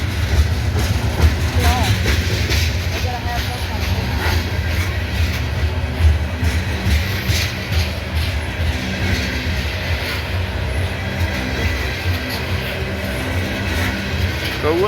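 A locomotive descends a hill on dynamic brakes, its big roof fan cooling the grids with a loud, steady roar and rumble, joined by occasional rail clatter and someone talking over it.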